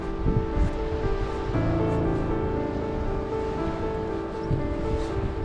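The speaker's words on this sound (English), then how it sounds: "So we're here at the beach, the infamous Palm Beach." Surf washing onto Palm Beach beside the abandoned resort of Varosha, Cyprus, a steady broad roar of breaking waves with wind, continuous and moderately loud with no talking.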